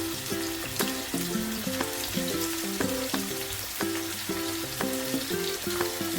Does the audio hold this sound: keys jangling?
no